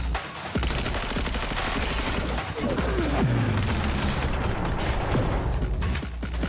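Shotgun blasts ring out in Cyberpunk 2077 as sharp, loud bursts amid a dense, chaotic combat din with repeated firing and mechanical clatter throughout.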